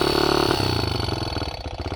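A Honda CRZ 125 motorcycle in very poor condition idles roughly with the choke slightly opened, its close two-stroke engine putting out a pulsing, uneven putter that wavers and softens over two seconds.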